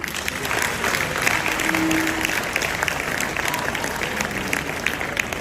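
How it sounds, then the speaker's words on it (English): An audience at the first anniversary celebration of the Asantehene Otumfuo Osei Tutu II at Manhyia applauds, with sustained, crowded clapping and some crowd murmur, fairly loud and continuous throughout. "One more time, a round of applause"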